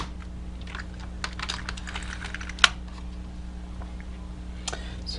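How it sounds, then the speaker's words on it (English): Plastic Amiga 500 computer keyboard being handled and reconnected, giving scattered light clicks and taps with one sharper knock over a low steady hum. "Hook up the keyboard back."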